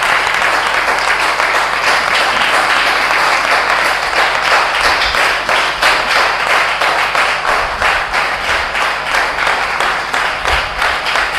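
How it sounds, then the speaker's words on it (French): A church congregation applauds the Virgin Mary during a novena for the Immaculate Conception, dense steady clapping from many hands filling a reverberant space, loud and continuous throughout. "nous pouvons quand même applaudir la Vierge Marie pour ce qu'elle est"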